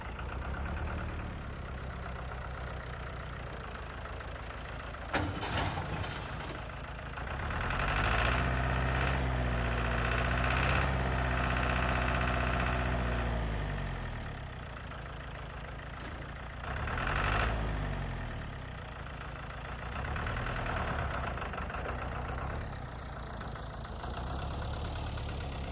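A brush mower's small engine runs after a throttle repair, holding a steady idle broken by two rising rev-ups outdoors, each settling back down.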